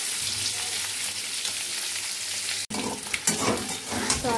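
Boiled potatoes sizzle in hot white oil in a steady, hissing fry, then after a brief cut the frying turns busier, with stirring scrapes and popping near at hand.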